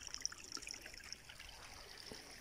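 A stream trickling and splashing as it falls over basalt rock, a faint steady wash of water with small bright gurgles, heard alone with no voices.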